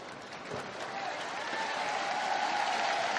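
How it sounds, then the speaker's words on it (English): A badminton arena crowd applauds at a men's singles final, sustained clapping that swells slightly and stays broad and even, somewhat distant. "Big round of applause from the crowd"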